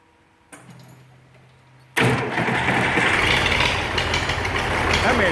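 An old Oliver 1550 diesel tractor starts on a cold day after preheating: a quiet hum, then a sudden loud catch as the engine fires and settles into a rough, steady clattering run.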